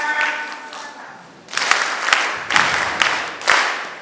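Bursts of applause from an audience, several rounds of clapping swelling and fading in quick succession, preceded by a murmur of voices.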